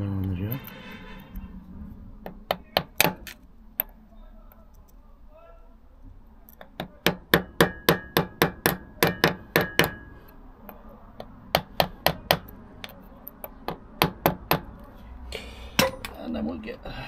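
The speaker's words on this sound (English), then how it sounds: "Hammer on the job." Hammer strikes on a Royal Enfield Hunter 350 gearbox sprocket ring out as bright metallic clanks, coming in irregular bursts of rapid blows with pauses between, close and loud, with someone talking now and then.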